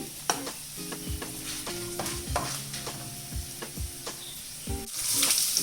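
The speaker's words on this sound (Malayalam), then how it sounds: "സവാളയും പച്ചമുളകും കൂടി ഒന്നിച്ചിട്ട് കൊടുക്കാം. ഇഞ്ചി എല്ലാം കൂടെ ഒന്നിച്ച് വഴറ്റാം." Onion, green chilli and ginger sautéing together in a pan for idli masala, with repeated scraping strokes of a spoon stirring against the pan over a soft sizzle, close and alone.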